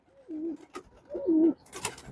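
Pigeons give two soft, rolling coos close by, with brief gaps of near silence between them.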